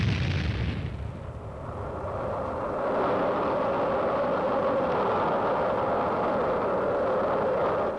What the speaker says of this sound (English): howitzer somewhere in Korea lobbing out a few rounds to take care of an enemy outpost